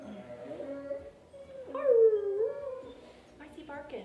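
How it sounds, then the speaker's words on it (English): A grumpy dog lets out drawn-out, howling barks and whimpers at close range, one louder cry in the middle, with a person's voice talking around it. "Why's he barking?"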